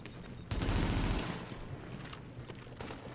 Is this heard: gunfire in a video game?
yes